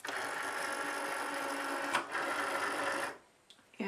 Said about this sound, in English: Now I'm just gonna load the mat inside.